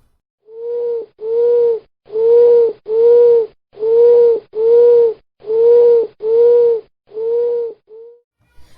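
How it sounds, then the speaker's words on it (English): An owl hoots a steady run of about ten loud, close, low hollow calls, each roughly half a second long, evenly spaced and alone. "Listen to the audio of owls too woo."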